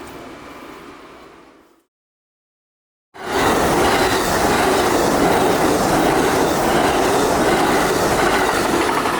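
An Amtrak train rumbles past close by with steady rolling noise and rhythmic clatter, cutting out briefly before returning loud and sustained.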